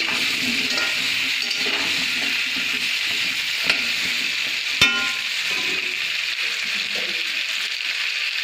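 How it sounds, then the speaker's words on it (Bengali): Potatoes fry in hot oil in a pan under a constant close sizzle, while a spatula stirs and scrapes the pan. A couple of sharper metallic clinks cut through the frying. "আলুটা লাল করে ভেজে নিতে হবে।"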